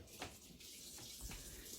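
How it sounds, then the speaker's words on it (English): Hot water runs from a kitchen tap while filling a crockpot, a faint steady splashing stream with a few brighter gushes, no talking. "fill that up with warm water."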